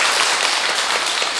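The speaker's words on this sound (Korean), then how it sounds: "박수로 환영해주시기 바랍니다" A congregation at a Catholic Mass in Jeju breaks into a dense, steady wash of clapping to welcome new members, heard briefly at full strength.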